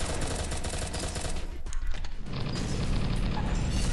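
Gunfire in the Pixel Gun 3D video game comes as a loud, dense stream of rapid shots with mechanical clanks, broken briefly by a short lull before the firing resumes.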